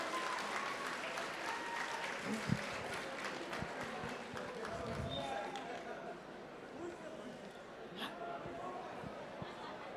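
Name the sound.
applause for the bidders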